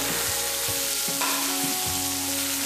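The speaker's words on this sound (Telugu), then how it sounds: "ఇప్పుడు ఆనియన్స్ వేసి వేయించుకోవాలి" Onions frying in a pan for a Telugu-style red chili rice, a steady close sizzle with occasional scraping stir strokes, no voices.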